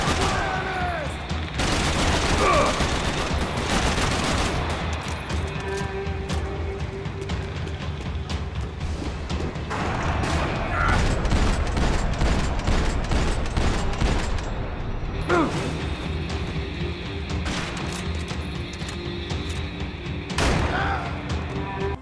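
Gunfire from the video game Max Payne 3 played with an FPS mod: loud, rapid bursts and single shots, with booms and impacts, over a busy game soundscape.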